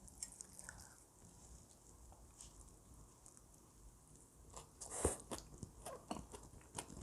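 Someone chewing a bite of Korean tofu bibimbap with sesame oil and fried tofu, soft close crunching and wet mouth sounds, quiet, growing busier toward the end.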